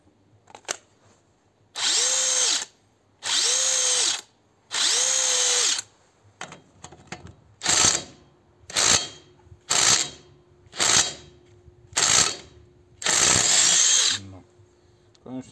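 A Parkside Performance PDSSAP 20-LI B2 cordless impact wrench works on a bolt tightened to 120 Nm. It gives three long, loud bursts, then a string of shorter hammering pulses with brief motor whines between them.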